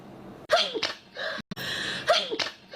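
A person sneezes twice in a row, close and loud, each with a sharp inhaled buildup and burst, separated by a brief pause.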